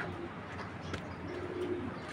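A breeding pair of grizzle racing pigeons coo softly at close range, low throaty notes repeating over a steady background hum.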